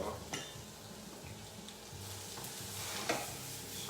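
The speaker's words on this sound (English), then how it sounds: "So again, saute this for about a couple of minutes." Garlic and bell peppers sizzle steadily in butter in a hot pan, with a few soft scrapes and clinks of a utensil stirring, close and fairly quiet.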